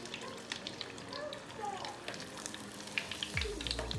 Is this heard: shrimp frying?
yes